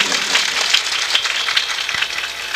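Devotees at a devotional program clap together loudly, a dense, continuous applause spread evenly throughout with no voices on top.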